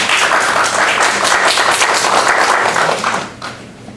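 An audience at a seminar on marriage and family customs applauds the mayor of Hamtramck with sustained clapping that thins and fades over the last second.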